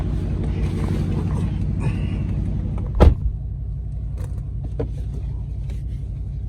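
Cabin sound of a 2018 Dodge Charger RT driving, a steady low engine drone with a sharp mechanical clunk partway through and faint creaks.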